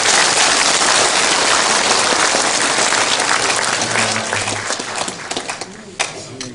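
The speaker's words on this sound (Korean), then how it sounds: "여러분 박수로 이렇게 감사의 박수 어떻습니까?" A lecture-hall audience at a 2014 national security lecture in Daejeon applauds in thanks to Professor Kim Dong-gil: dense, loud, sustained clapping from many hands that thins slightly near the end, with no voices heard.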